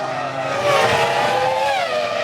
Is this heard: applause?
no